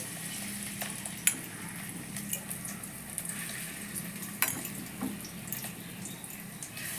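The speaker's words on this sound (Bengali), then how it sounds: "এখন আমি পকোড়াগুলো ভেজে নিচ্ছি।" Fish roe and lentil pakoras deep-frying in hot oil, a soft continuous bubbling sizzle with a few faint clinks and taps, quiet and close, no talk.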